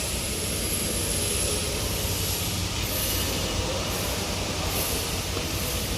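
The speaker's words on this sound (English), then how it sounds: "This is a screw air compressor." An Airpol 37 belt-driven screw air compressor runs with a steady, loud, broadband roar and hiss, constant throughout with no talking.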